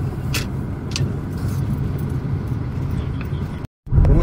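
A car drives along a road, heard from inside the cabin as a steady low rumble with road noise, a brief dropout near the end before the rumble resumes.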